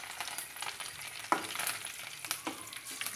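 Curry leaves with mustard seeds, cumin and urad dal sizzle in hot oil in a pan while being stirred, giving a steady close crackle broken by a few scraping strokes.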